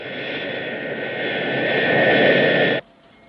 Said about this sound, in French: un avion non identifié qui va traverser la piste de droite à gauche